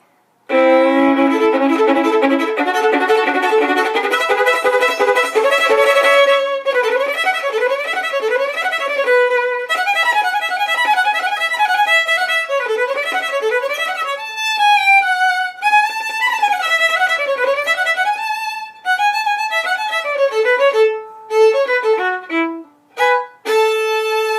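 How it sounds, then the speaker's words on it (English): A lively fiddle tune on solo violin, quick bowed notes sliding and bouncing in a steady rhythm, played close and bright. "I'm going to demonstrate by playing some fiddle music on the violin."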